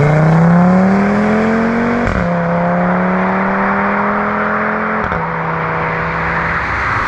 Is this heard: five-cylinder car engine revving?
yes